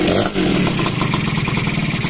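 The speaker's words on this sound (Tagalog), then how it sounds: "Tahimik din yung makina mga kamekaniko." The engine of a restored Pantra motorcycle idles nearby with a steady, even mechanical chug, loud and close with no talk over it.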